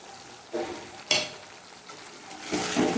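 Ground cumin, coriander and Kashmiri chilli powder frying in oil in a pan, a close sizzle broken by a few loud scraping stirs of a spatula.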